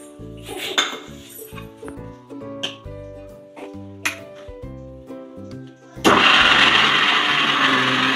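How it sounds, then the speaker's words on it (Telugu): Mixie jar grinding a sweet flour mixture for bellam sunnundalu, starting abruptly with a loud, dense whirring roar after several seconds of music and clinking dish sounds. "దీన్ని ఒకసారి మిక్సీ జార్లోకి తీసుకొని మిక్సీ చేయాలి."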